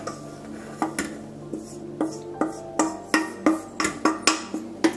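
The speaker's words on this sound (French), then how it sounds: "on va mélanger de manière énergique" Flour being mixed vigorously into melted butter in a pan for choux dough for chouquettes, heard as a rapid series of sharp metallic clinks and scrapes of utensil against pan, close and rhythmic, with no talking.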